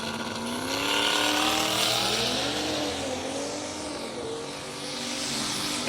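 A 2020 Toyota Supra with a 3-litre engine in the left lane and a Miata with a 5.3-litre engine in the right drag race at a racing event; loud, close engine roars climb through rising gear sweeps over continuous crowd and track noise.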